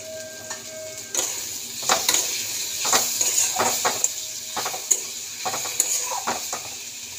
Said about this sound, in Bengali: এটাকে একটু মশলাটাকে কষে দেবো। তো একটু মশলাগুলো কষা হোক।